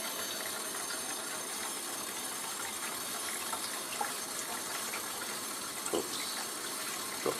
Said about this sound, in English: when you peel it, you want to peel it under running water